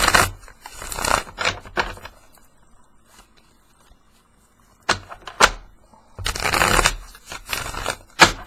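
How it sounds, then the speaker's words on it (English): A deck of tarot cards is shuffled by hand in several brisk bursts of riffling and flapping, close and fairly loud, separated by quiet pauses. "All right, 3 more shuffles."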